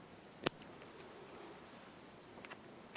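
Scissors give a single sharp snip while trimming excess thread on a tungsten-bead fly-tying jig, followed by a few faint ticks and light handling noises in a quiet room.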